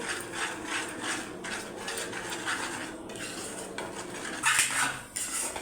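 Six beaten eggs being stirred in a pan for egg bhurji, a busy stream of metal spoon scraping and clattering against the pan, fairly close and continuous, with no talking.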